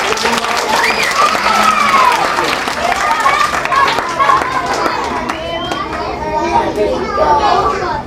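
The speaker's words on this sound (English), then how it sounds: "Give her a round of applause." Children and audience members clap at a library magic show, bursts of applause mixed with lively kids' chatter and shouting, with voices talking over the noise throughout.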